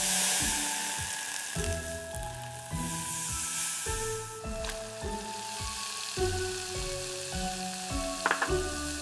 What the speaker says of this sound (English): The finely minced garlic falls in a precise scatter and sizzles immediately